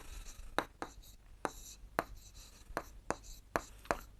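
A pencil scratches across paper while writing out a geometry construction step for a class 7 maths lesson, short crisp strokes in an uneven rhythm, faint and close in a quiet room.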